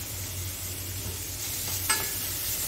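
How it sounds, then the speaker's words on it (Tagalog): Ginger and onion sauté in a pan for chicken pastel, a soft steady sizzle with a low hum beneath it and one brief stir near the end, no talk. "Sunod na natin ang ating luya at ang ating sibuyas."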